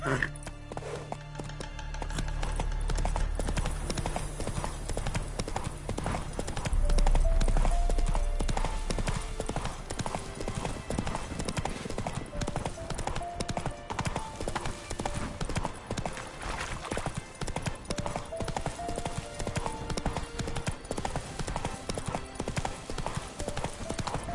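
Roach, a horse in a video game, gallops with a fast, rhythmic clip-clop of hooves that runs without pause, swelling briefly and then carrying on steadily, with a voice speaking at times.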